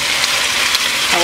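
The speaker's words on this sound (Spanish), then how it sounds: "En aceite y mantequilla caliente vamos a agregar el pollo a fuego alto para que se selle por ambos lados" Chicken sears over high heat in hot oil and butter, a loud, close, steady sizzle and crackle that continues without break.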